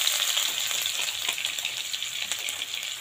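Grated onion dropped into well-heated mustard oil for a dry fish curry, giving a dense, steady hiss and crackle that stays loud and even throughout, close up and with no voices.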